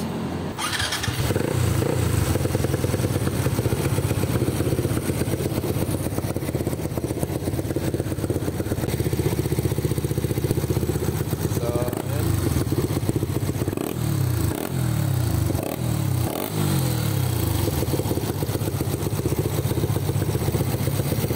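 A Yamaha Nmax 195cc scooter with an upgraded belt idles loudly and close, then gets revved in several short throttle blips toward the end, with a continuous engine drone and no voices.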